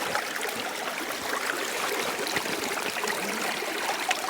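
Running water pours steadily over a rock being washed while rockhounding in Utah, a continuous close splashing trickle with no talk.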